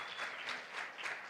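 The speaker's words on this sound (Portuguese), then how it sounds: "eu queria que você desse uma salva de palmas para a nossa igreja" A church congregation applauds to celebrate the church's anniversary, a faint, steady patter of many hands clapping at a distance.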